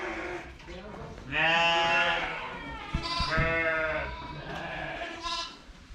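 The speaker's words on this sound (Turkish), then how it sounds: "Burada koçlar var." Rams and sheep in a barn bleat loudly and close by, with several long wavering calls overlapping, while someone talks over the livestock noise.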